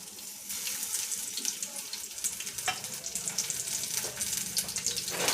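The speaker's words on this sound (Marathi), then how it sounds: "तेल गरम झालं की त्याच्यामध्ये टाकायचं कांदा." Onions drop into hot oil in a pan over medium heat and fry with a steady, bright sizzling hiss, close and moderately loud, with no talk.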